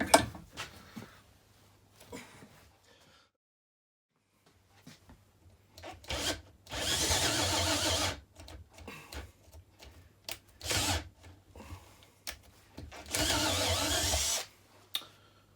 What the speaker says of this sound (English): I'm going to try and loosen it using a motor, see if I can get it to spin a bit in the chuck